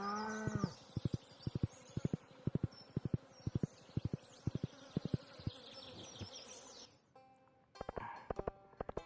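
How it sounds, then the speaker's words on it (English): Bees buzz steadily in a farming video game, a thin droning texture running under a brisk, regular series of sharp clopping beats like hooves, with a short break near the end before the clops resume. "God, those bees are noisy."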